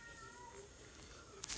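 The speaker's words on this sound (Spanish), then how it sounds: "Sorry, ese es mi gato, Lux" A pet cat meows faintly against a quiet room background, with a short louder call near the end.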